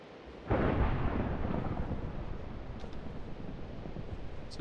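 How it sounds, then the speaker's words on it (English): A Minecraft thunderstorm lets loose a loud rolling thunderclap that bursts in and rumbles on for several seconds, fading slowly over steady rain. "Is it dark enough for me to go sleep and get rid of that thunderstorm?"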